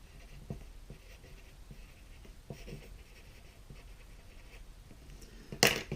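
Pen or marker strokes on paper or a board as someone writes out an algebra identity in a maths lesson, faint scratchy taps and scrapes in short bursts, ending with a louder rustle.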